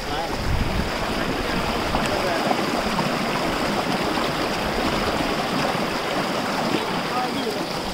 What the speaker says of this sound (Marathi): तर हा हे केवलीचा धबधबा